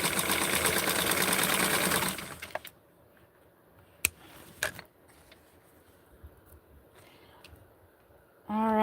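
A sewing machine stitches a small doll shirt in a loud, steady mechanical whir for about two seconds, then stops, leaving quiet handling noises, a few sharp clicks and a final burst of stitching.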